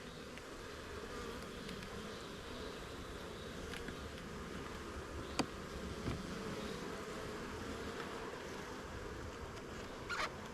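Honey bees hum in a steady, dense drone while a nuc hive is installed, with a few faint knocks and clicks breaking through.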